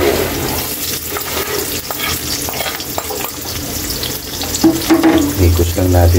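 Sliced onion goes into a pan of golden-browned garlic and fries with a loud, close sizzle, mixed with stirring scrapes and a brief splash-like surge near the end.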